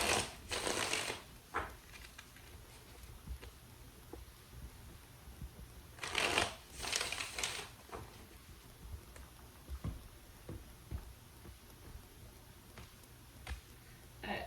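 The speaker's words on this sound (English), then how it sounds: "2 more shuffles for the person on Aquarius' mind." Tarot cards shuffled by hand in a few soft, papery bursts, the loudest near the start and around the middle, with quieter riffling and faint handling noise between them and no talking.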